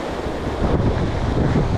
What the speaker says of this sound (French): c'est le vent, ça fait des vaguelettes